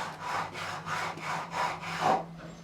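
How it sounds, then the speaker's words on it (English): A 300-grit diamond file rasps back and forth across a guitar fret crown on an electro-acoustic guitar, about six smooth, evenly paced strokes, close and soft, with no talking. "It's a diamond file, 300 grit."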